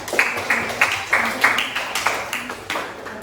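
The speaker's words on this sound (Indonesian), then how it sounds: "boleh dah tepuk tangan untuk Fazra" A small classroom group gives Fazra a round of applause, a sparse, uneven patter of a few hands clapping in loose bursts, fairly close and moderately quiet.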